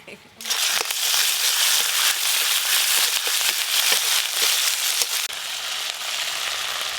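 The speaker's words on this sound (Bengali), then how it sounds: "আদা জিরে ভাজা ভাজা হয়ে গেছে" Ginger and cumin fry in oil in a pan while cooking tilapia, giving a loud, continuous sizzle and crackle with brief stirring scrapes and a short drop in intensity toward the end.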